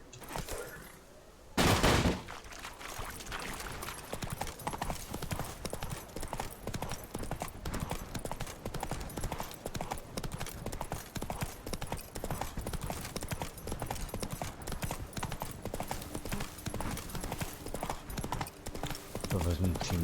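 Galloping horse hooves in a video game, a steady rapid clip-clop running nonstop after a brief loud burst near the start, with game sounds layered over it.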